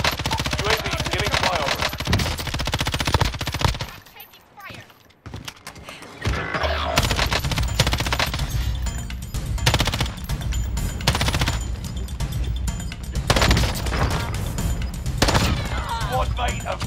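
Rapid submachine gun fire rattles in dense, repeated bursts in a Call of Duty-style shooter, with a short lull in the middle before heavy firing and game effects resume, while a player talks over it.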